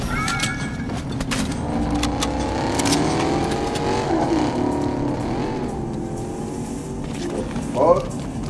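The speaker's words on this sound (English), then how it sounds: "Someone out there driving a car." A car in the game Fortnite drives and revs, its engine whine rising and falling over about eight seconds beneath a player's voice.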